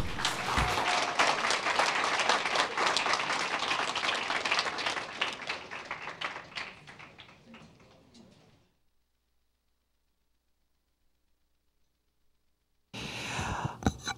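Audience at a spelling bee breaks into sustained applause, dense clapping for about eight seconds before fading to silence, then a fresh burst of clapping returns near the end.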